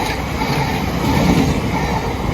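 A Class 700 train passing on the fast track in south London, a steady broadband rumble and rush of wheels and air held close and loud throughout, with no voices.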